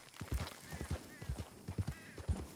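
Horse hooves clopping in Red Dead Redemption, a quick irregular run of close, soft thuds over a light background.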